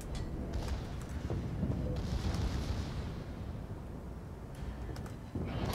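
Heavy naval guns booming in a video game battleship fight, a dense continuous rumble of artillery blasts and explosions with sharp reports near the start and end, loud and sustained.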